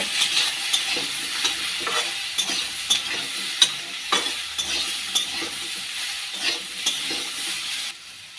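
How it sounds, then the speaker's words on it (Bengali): Turmeric and salt fry in a pan, with a steady close sizzle broken by repeated scraping stirs of a utensil, a few sharper clinks, all without talk. "হলুদ লবণ দিয়ে ভালো করে ভেজে নেব"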